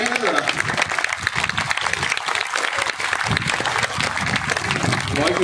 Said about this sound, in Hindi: उसके लिए क्लैपिंग करें ना जरा।